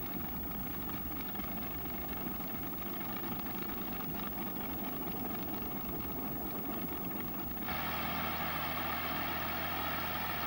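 An aircraft engine, a liquid-cooled piston engine, runs up toward 1500 RPM, a loud, close, steady rumbling roar that grows brighter and more intense near the end.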